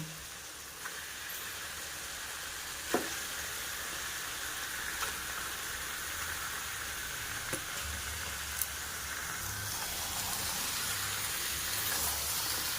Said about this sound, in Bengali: এবারে মাংসটাকে কড়াইতে দিয়ে দেব